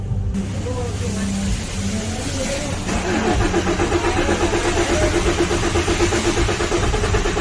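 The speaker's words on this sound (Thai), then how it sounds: "ต่อไปเราก็จะทำการสตาร์ท เครื่องยนต์ดูนะครับ" A Chevrolet Colorado Z71 pickup's diesel engine, with a starting fault, turns over and catches, settling into a rough, rattling idle that grows slightly louder, heard up close with no clear talking.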